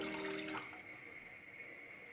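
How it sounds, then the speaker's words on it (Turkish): Bone broth is poured slowly into a pot with a short burst of splashing liquid, followed by a faint, steady watery hiss that trails off. "Yavaşça kemik suyumu ilave ediyorum."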